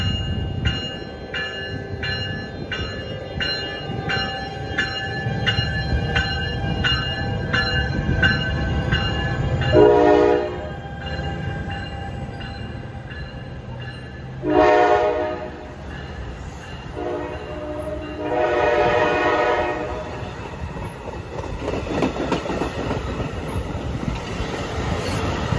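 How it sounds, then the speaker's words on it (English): A New Jersey Transit diesel train approaches at Hoboken, sounding its horn in several loud, long blasts separated by pauses, with rumbling engine and rolling wheels building underneath. "Here comes train"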